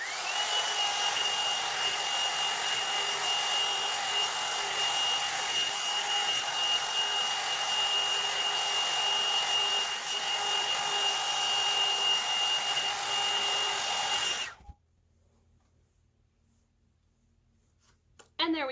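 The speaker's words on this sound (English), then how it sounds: "I like to take each of these sections and blow dry them away from the face." A hair dryer blows steadily and loudly on fine, thin hair for about fourteen seconds, then cuts off abruptly, leaving near silence.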